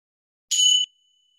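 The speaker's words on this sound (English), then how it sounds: "allow the sound of the bells to gently guide you back to your physical position" A single clear, bright bell tone rings out at the end of a yoga session, one short strike with a thin ringing tail, alone in silence.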